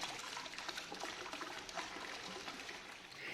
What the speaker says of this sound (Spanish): Es importante escuchar ese relajante sonido del agua.